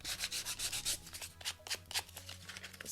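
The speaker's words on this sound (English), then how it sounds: "I'm going to take this fine grit sandpaper" Fine grit sandpaper rubs back and forth over the paper edges of a handmade book in quick, rhythmic rasping strokes, close and fairly quiet, with no talking.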